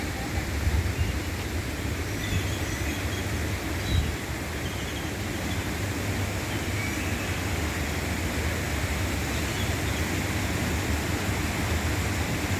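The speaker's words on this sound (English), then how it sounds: "See a waterfall back there in the background." A waterfall on the Las Vegas Strip, near a pond with ducks, rushes behind a walk as steady broadband water noise. It stays constant and even from start to finish, with no other clear sounds.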